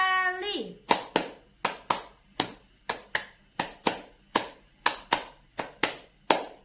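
A class of children claps in three quick rounds of five, crisp evenly spaced claps following a brief call from a woman.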